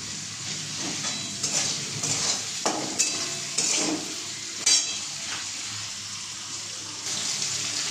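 Cut potatoes frying in a pan make a steady, fairly quiet hiss and sizzle, broken by several clinks and scrapes of stirring.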